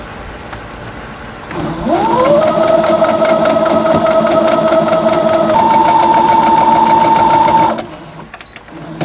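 Sewing machine running steadily for several seconds as it stitches quilt block seams for a pressed-flowers quilt, with a whirring motor tone that starts up, holds and then stops; fairly loud and close, with no talk over it.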